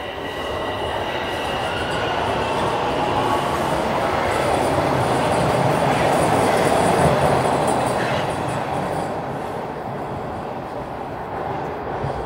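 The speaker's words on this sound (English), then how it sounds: "I hear a train." Toronto subway train rumbles into a station, its roar swelling and fading across the stretch with metallic wheel squeal and clatter, loud and close.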